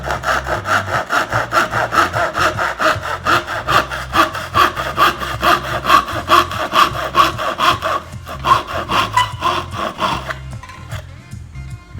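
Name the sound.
fine blade saw cutting wooden cigar box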